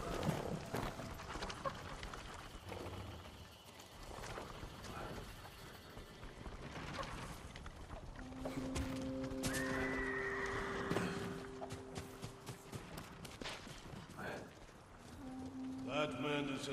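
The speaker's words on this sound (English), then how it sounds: "Follow those horses." Horses whinny and neigh with clip-clopping galloping hooves in the video game Ghost of Tsushima, over a busy mix of movement and ambient noise, with some voices in the background.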